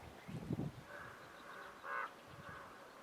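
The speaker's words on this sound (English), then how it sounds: "Up above we can hear ravens and blackbirds calling to each other." Distant caws of ravens and blackbirds ring out a few times in a quiet outdoor space in Bloody Canyon, with faint low rustling between the calls.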